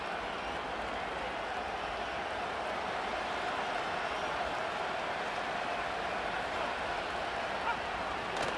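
Stadium crowd noise in the Madden NFL 25 video game during a New England at Atlanta matchup, a steady broad roar with faint clapping, sustained at even level throughout under a low murmur of voices.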